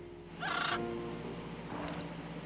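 A loud, noisy Gaga bird squawks once in the video game Little Witch in the Woods, a brief harsh burst over steady game music, with a fainter echoing call trailing after.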